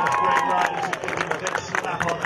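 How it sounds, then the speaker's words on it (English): British spectators cheer as a pony and rider clear the water-to-water brush fences at a cross-country eventing competition in the FEI European Championships for Ponies. The crowd noise is loud and sustained, with a rising whistle-like tone early on. "Great cheer from the Brits"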